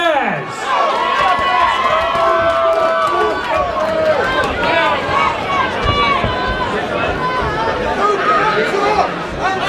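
A crowd at an amateur white-collar boxing event in Hull cheers, shouts and chatters loudly and continuously for the whole stretch, with individual yells rising out of the dense noise.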